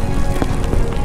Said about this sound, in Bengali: তো বিশাল বৃষ্টি হচ্ছে, বিশাল ভয়ঙ্কর বৃষ্টি হচ্ছে।